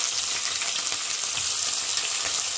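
Chopped onions and green chillies fry in hot oil in a home kitchen pan, giving a steady, fairly close hiss and crackle that holds evenly throughout with no talking.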